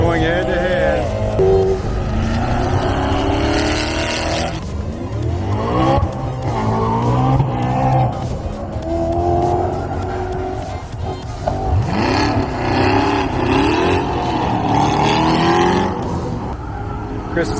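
Race cars, including a C7, circle an oval at Atlanta Motorsports Park, engines roaring continuously with pitch sweeps as they pass, and tires squealing as one car slides through a turn, under steady commentary.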